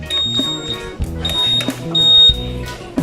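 A GPS tracker's dual alarm on a Honda ADV 155 motorcycle blares close and loud, with electronic beeping tones in repeating bursts and warbling siren-like patterns.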